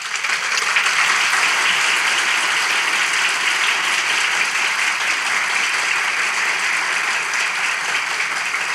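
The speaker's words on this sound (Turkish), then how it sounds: "Alkışlarla!" An audience in a studio talk show applauds steadily for several seconds, a dense, loud wash of clapping with no voices over it.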